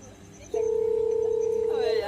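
A steady electronic phone ring tone sounds for over a second, starting abruptly after faint background noise and ending with a short muffled sound.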